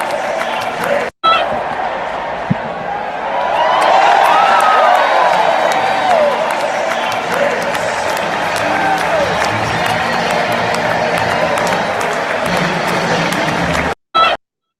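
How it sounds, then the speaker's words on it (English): A baseball stadium crowd cheering as the first pitch is thrown, a loud, sustained roar with whoops and a voice over it, starting after a short pause and holding steady until an abrupt cut. "you'll get a chance to hear the crowd reaction when he threw out the first pitch last night"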